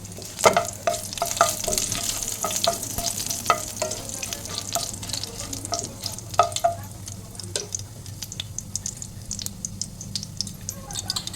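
Dry red chillies, bay leaves, cumin, cardamom and cinnamon crackling in hot oil: a steady close sizzle with dense spitting pops and occasional stirring scrapes, continuous throughout, with a voice faintly underneath.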